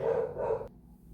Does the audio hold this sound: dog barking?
yes